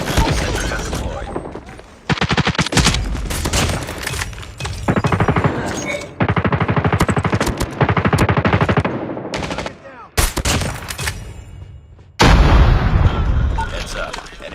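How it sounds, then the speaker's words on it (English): Sustained automatic gunfire from a sentry gun in Call of Duty Mobile, loud, dense bursts with short gaps between them and heavy impacts near the end. "Sentry gun deployed."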